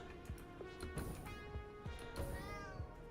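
A cat meows several times up close in a room, with short repeated calls standing out over a steady low background hum.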